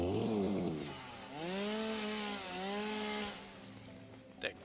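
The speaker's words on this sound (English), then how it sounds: "Chainsaw." A chainsaw tool in the video game Satisfactory, revving with rising and falling engine pitch as it cuts, fairly prominent and alone, ending with a brief click.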